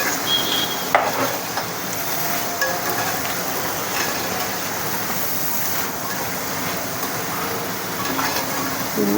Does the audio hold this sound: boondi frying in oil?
yes